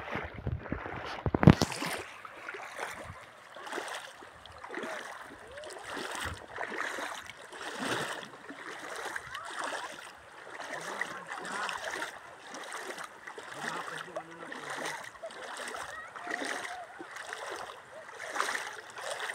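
Continuous rushing water of a clear river being waded across, with splashing and gurgling close by, steady throughout, a sharp knock near the start.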